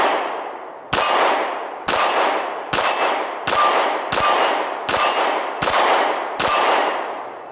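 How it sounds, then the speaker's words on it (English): Nine sharp gunshots from an S&W M&P 9 Shield pistol, evenly spaced about a second apart and each followed by a ringing clang from a steel target downrange, loud and echoing outdoors with no talking. "We're going to shoot the M&P shield at the steel target out there and see if we can get hits."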